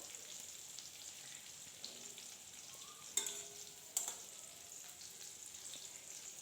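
Pointed gourd fries in oil in a pan, a faint steady sizzle with two sharp spatula scrapes or clacks partway through, and no talking.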